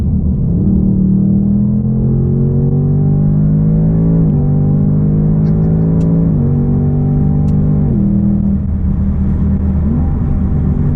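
A 2021 Ford Mustang Mach 1 accelerates hard through the gears, its loud, close engine note climbing steadily and dropping at each of several shifts, with no talk over it.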